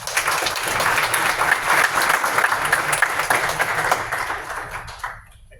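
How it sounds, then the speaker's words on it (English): A crowd bursts into steady, dense applause at a tech demo night, sustained clapping filling the room for several seconds before fading out at the end. "Let's give Jesse a round of applause."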